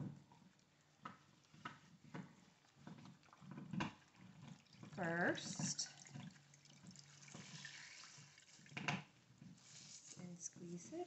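Fabric dunked and swished in a basin of water before dyeing, giving soft sloshing and splashing with a few louder bursts, while someone keeps talking over it.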